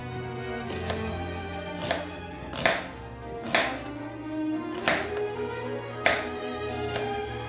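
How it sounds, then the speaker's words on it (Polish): A knife dices onion on a cutting board with about seven sharp, evenly spaced chops roughly a second apart. The chopping is close but fairly quiet, over a low steady background hum, with no talking. "Cebulę kroję w kostkę."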